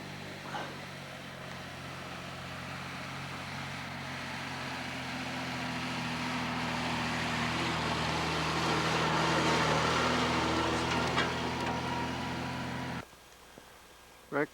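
A Unimog truck climbs up through trees, its engine droning and slowly growing louder as it nears, then cutting off abruptly near the end.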